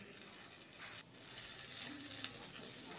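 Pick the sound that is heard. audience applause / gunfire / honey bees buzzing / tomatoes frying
tomatoes frying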